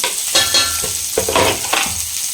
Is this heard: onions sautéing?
yes